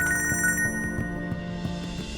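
A telephone rings with a repeated electronic trill, several evenly spaced pulses at moderate volume, heard alone without voices.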